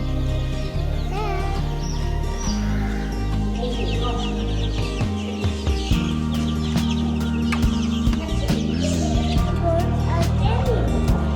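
Chicks at a garden center, with steady clucking and cheeping from several birds close by while people talk over them.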